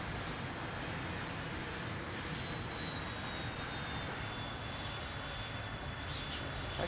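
Dassault Dornier Alpha Jet in Microsoft Flight Simulator taking off, a continuous roaring jet engine with a thin high whine that slowly drifts in pitch, steady and loud from start to finish.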